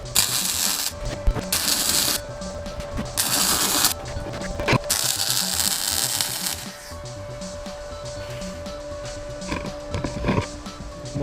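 Welding engine and gearbox mounts on a TD5 Land Rover Defender produces loud, crackling hiss in long sustained bursts separated by brief pauses, followed by quieter clicks and shop clatter.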